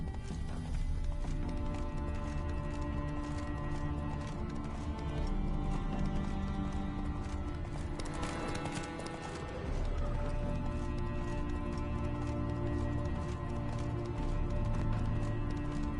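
Roach the horse's hooves clop steadily in a PS4 game, a continuous close-up trotting rhythm with a brief snort or whinny partway through and a constant ambient bed beneath.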